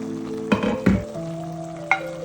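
Malabar spinach and shrimp fry with freshly added chopped onion, a close, steady sizzle broken by several loud scraping stirs and clanks of a spatula against the pan.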